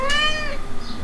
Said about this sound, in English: there's our little kitty cat, Sal.